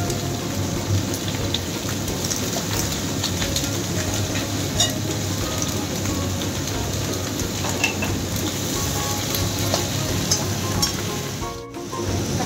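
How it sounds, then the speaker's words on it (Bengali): Chicken pieces for spicy chilli chicken fry in a pan with a steady, dense crackle and hiss that runs unbroken at moderate volume, with a brief clatter near the end. "ভালো করে ভাজা হয়ে গেছে।"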